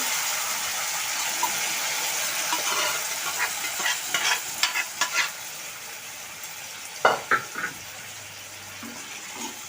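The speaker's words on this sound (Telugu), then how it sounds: "ఇప్పుడు మనం ఇందులో ఈ ఆనపకాయలు యాడ్ చేస్తాము." Bottle gourd pieces tipped into a pan of sizzling onions, a steady close frying hiss with a few sharp clattering stirs and a louder burst near the end, no talk.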